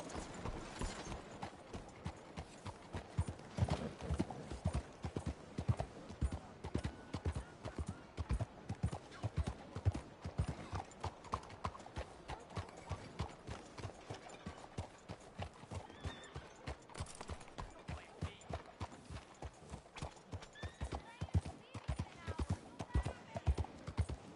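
Horse hooves galloping in Red Dead Redemption 2, a rapid steady clip-clop rhythm running throughout with occasional whinnies and a person talking over it.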